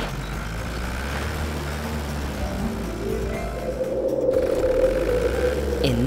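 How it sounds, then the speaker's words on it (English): A grumpy-sounding cartoon truck engine in a children's garage cartoon, a steady low rumbling drone that holds for several seconds and swells slightly toward the end, with no voices over it. "why does your engine sound so grumpy?"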